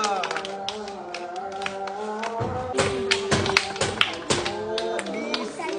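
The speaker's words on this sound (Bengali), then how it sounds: "দুই জোরে হাততালি" Children clap their hands loudly during a play session: a quick cluster of sharp, bright slaps in the middle of the clip, heard over steady background music and voices.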